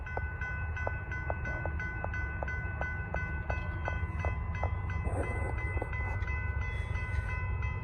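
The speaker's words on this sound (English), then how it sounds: "our next train will be NS 241" A Norfolk Southern freight train rolls past with a regular clacking of wheels over rail joints, a steady rumble underneath and some squealing metal toward the end.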